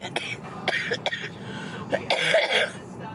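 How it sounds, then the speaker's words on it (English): Someone coughs and clears their throat in a short series of rough, raspy bursts, close and fairly loud. "we're not gonna let you just listen to me cough all afternoon"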